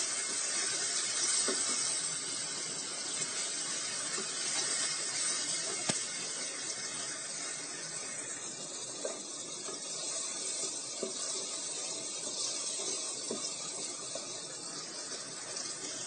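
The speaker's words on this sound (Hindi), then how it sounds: "और इसमें हम डालेंगे ये शिमला मिर्च, इसे थोड़ा सा भूनेंगे।" Chopped bell pepper (capsicum) stir-frying in a pan gives a steady, soft hiss and crackle that runs unbroken throughout, fairly close, with no talking.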